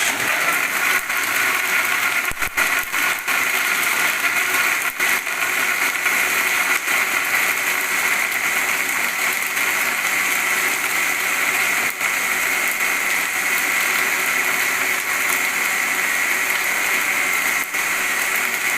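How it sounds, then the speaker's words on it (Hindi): A blender grinds falsa juice with ice, a loud, steady motor whir running continuously with a rattling, gritty texture and no voices. "फिर से इसको बंद करेंगे और कुछ देर के लिए इसको ग्राइंड करेंगे"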